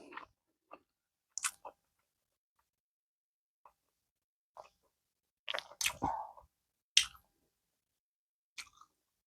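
Someone eating egg fried rice with salmon fish fry, giving faint, scattered close-up chewing and crunching bites separated by silent gaps.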